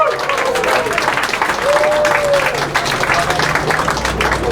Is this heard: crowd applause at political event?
yes